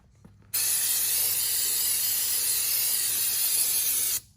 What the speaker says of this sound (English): These are kind of dirty, so I just take a little bit of brake cleaner.